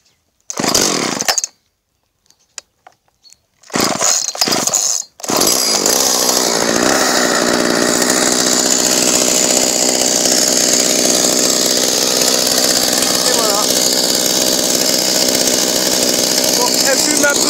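A chainsaw cleaned with fuel oil is pull-started with the choke on: a few short bursts and sputters, then it catches and runs at a loud, steady idle close by, with someone speaking briefly at the start.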